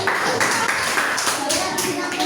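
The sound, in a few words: class clapping hands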